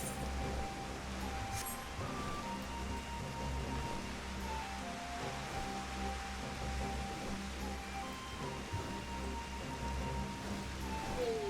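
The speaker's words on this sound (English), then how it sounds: "Ah! Rain!" Rain falls in the video game Final Fantasy XIV, a soft, steady hiss of rainfall with faint tonal game ambience drifting underneath, quiet and continuous without talk.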